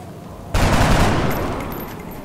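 Gunfire from the video game XCOM Long War: a sudden loud burst of shots erupts after a short quiet lead-in, then rumbles and fades over the next second or so.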